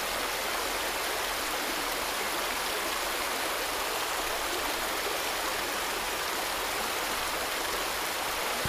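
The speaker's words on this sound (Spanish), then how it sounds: "Tenía que girar eso porque el agua venía de este tubo" Steady, dense rush of water pouring from a pipe in the video game Resident Evil 2, a constant close broadband flow with no pauses.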